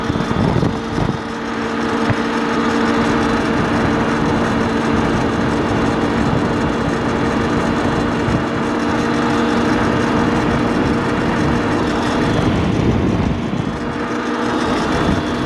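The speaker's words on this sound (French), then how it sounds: "quand on met un coup de gaz avec une seule main, c'est vrai que la moto a tendance à accélérer fort" A motorcycle engine drones continuously at a loud, steady level while riding, a low rumbling hum that holds its pitch with little change and no talk over it.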